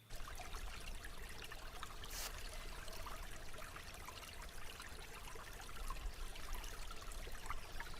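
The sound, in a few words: stream of trickling water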